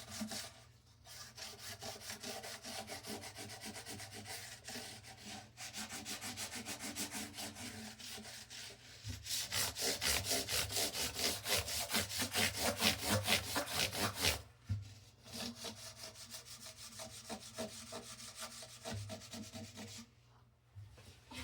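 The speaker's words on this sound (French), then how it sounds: "Ça aide à enlever les marques de lime aussi sur les bouts de frettes." Smoothing the fret ends of a classical guitar to remove file marks, heard as steady rhythmic back-and-forth rubbing strokes, close and fairly quiet, growing more vigorous through the middle before easing off.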